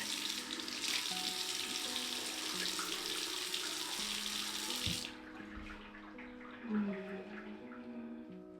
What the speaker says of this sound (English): washing my face using this cleanser from Muti. It's a gentle milk cleanser.